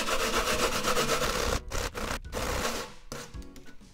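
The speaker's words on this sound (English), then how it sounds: "Then we're going to grate this." Food is grated by hand for mochi dishes, a close, rhythmic rasping scrape that repeats steadily, then pauses and resumes in shorter strokes.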